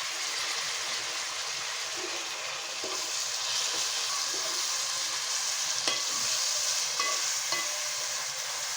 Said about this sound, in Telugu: ఉల్లిపాయలు అయితే చక్కగా వేగుతూనే ఉన్నాయి